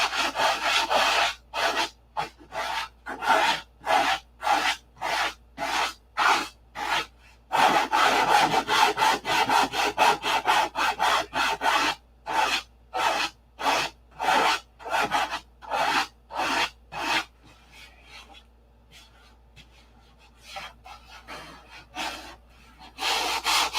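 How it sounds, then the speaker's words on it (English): A sanding block rubs back and forth over the nose glass of a P-47 model, loud close rhythmic strokes in quick runs, with a pause before slower, quieter strokes near the end. "Lots of sanding going on here."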